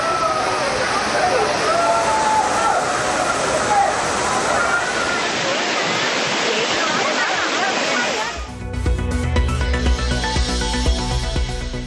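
Courtallam's main waterfall in heavy flow roars as a loud, continuous rush of crashing water for about eight seconds before music takes over.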